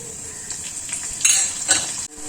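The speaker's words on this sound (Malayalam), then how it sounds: "എണ്ണയൊന്ന് ചൂടായി വന്നിട്ടുണ്ട് നമ്മൾ താളിക്കാൻ വേണ്ടി ഇവിടെ കൊച്ചുള്ളിയാണ് അരിഞ്ഞു വെച്ചിട്ടുള്ളത് കൊച്ചുള്ളി ചേർത്ത് കൊടുക്കാം" Chopped shallots hit hot oil for a tempering, giving a continuous bright sizzle with a couple of louder crackling surges and light clinks of a utensil before it cuts off abruptly near the end.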